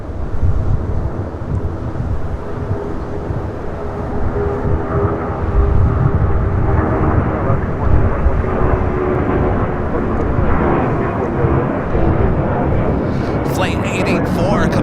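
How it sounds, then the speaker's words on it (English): A Cathay Pacific Boeing 777-300ER from Hong Kong taxis at LAX, its jet engines a loud, continuous roar with wind buffeting the microphone, while someone talks over it. "Got Cathay Pacific, the 777 300 ER coming up from Hong Kong."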